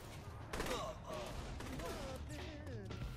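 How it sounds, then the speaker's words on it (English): Gunfire in the video game Saints Row 3, a few quick bursts of shots layered under excited co-op players talking over the action. "I'm shooting another one"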